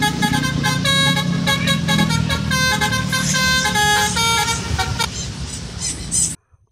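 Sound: Lorena bus horn honking

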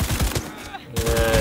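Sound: gunshots from the video game Cyberpunk 2077

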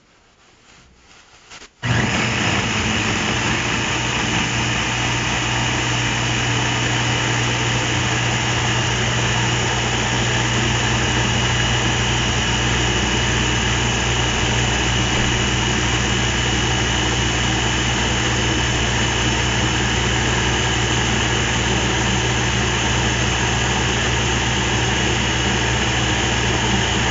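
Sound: blender mixing smoothie with flaxseed, spinach, lemonade

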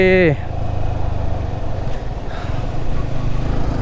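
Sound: Yamaha R15 motorcycle engine running rough, low on petrol

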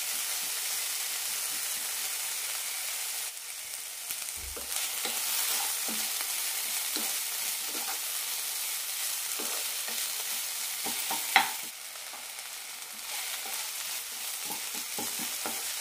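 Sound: sautéing tomatoes in a pan for cabbage chutney

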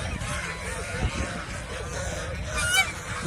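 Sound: geese honking at a goose farm

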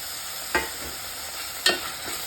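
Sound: tomatoes sautéing and being stirred in a pan

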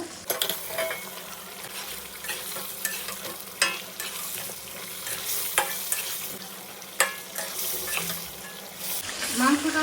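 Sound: meat frying with spices, stirred in pan

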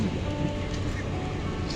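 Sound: heavy rain on rooftop

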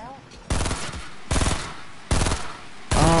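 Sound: minigun firing in the video game Fortnite

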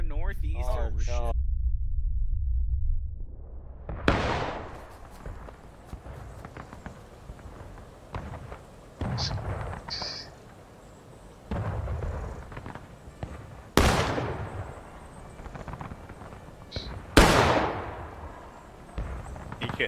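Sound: musket gunfire in War of Rights video game

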